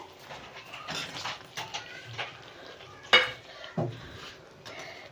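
Potatoes go into hot oil in a pan for dum aloo, giving clattering utensil knocks and scraping with a couple of sharper clunks over a faint sizzle, fairly close and with no talk.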